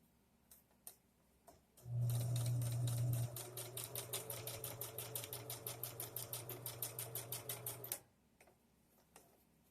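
A sewing machine stitches homemade bias tape onto fabric. After a brief steady hum, it runs for about six seconds in a fast, even, rattling rhythm of needle strokes, then stops abruptly. The sound is close and clear, with no talking.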